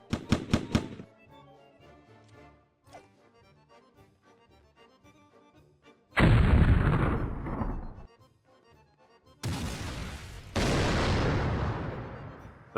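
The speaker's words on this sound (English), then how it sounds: "That was 19 missiles and I have no ammo." Weapon fire in the toy-soldier video game Attack on Toys: a quick volley of sharp shots, a stretch of softer rhythmic thumps, then loud booming missile blasts and roaring explosions that repeat. No one speaks.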